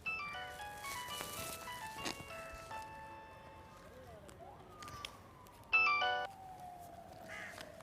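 A telephone rings indoors with a repeated electronic tone pattern, fairly faint against a quiet room, followed by a louder, brief burst of ringing tones.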